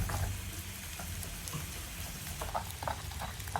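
Lamb back strap sizzles in a frying pan, a steady, dense crackle and spatter with faint pops and no talking.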